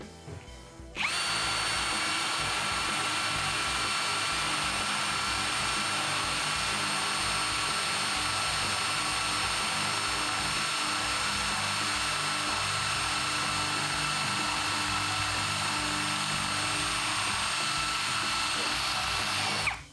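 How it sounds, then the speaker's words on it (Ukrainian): A Procraft PA21Li cordless drill in drilling mode with impact off whines continuously at a steady pitch for about twenty seconds, close and loud, with no hammering pulses. "Давайте вимкнемо режим удару, щоб порівняти. Ставимо на свердлення."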